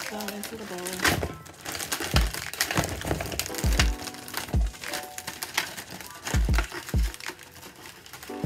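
Oreo cookies tumble from an opened pack into a mixing bowl during home baking, giving close, loud crinkling rattles and scattered hard clatters in irregular bursts.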